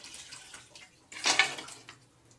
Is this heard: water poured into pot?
yes